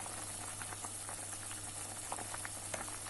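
Sulu köfte, Turkish meatball soup, simmering in a pot, a soft, steady bubbling and faint sizzle at low level with small irregular pops and no voices.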